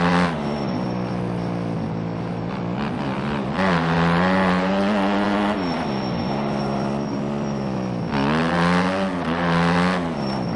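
Several motocross bike engines in MX Bikes on a custom track, a continuous loud buzzing whine that rises and falls in pitch as the bikes rev and shift, with no talking.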